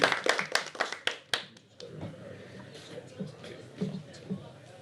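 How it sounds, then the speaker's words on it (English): Scattered hand claps from a small group of players at a Mafia game tournament in London, a brief burst that fades into murmuring room noise and chatter. "round of applause for player number"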